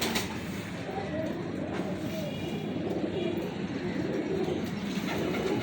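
Pigeons coo close by in soft repeated throaty calls over a low, steady background rumble.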